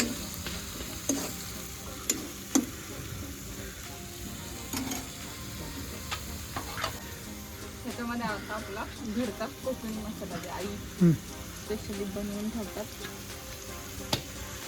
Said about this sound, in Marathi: मसाला एकदम आहे ना फ्राय करायचा एकदम तेलामध्ये चांगला भाजून घ्यायचा आहे